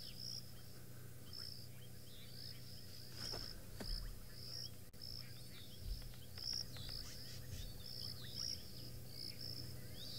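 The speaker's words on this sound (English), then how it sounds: "Some quite upset drongos," Agitated fork-tailed drongos call repeatedly in quiet evening bush, their sharp high chirps scattered over a steady insect and tree-frog chorus, distant and fairly faint with no one speaking.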